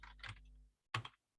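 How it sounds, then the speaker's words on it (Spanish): Computer keyboard keys clicked in two quick flurries, with a short pause between them, as a name is typed in; the clicks are close and fairly quiet. "está esperando justamente que yo le ingrese el nombre de esa persona por teclado"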